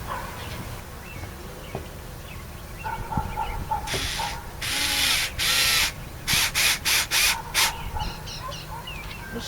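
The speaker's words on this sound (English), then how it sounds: "So it's going to put the screws back in." A power drill drives screws back into an exterior range vent cover, with several short bursts of whirring, a longer one and then a rapid series of quick pulses, close by and loud.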